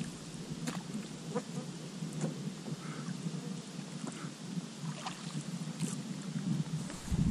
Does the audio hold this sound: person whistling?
no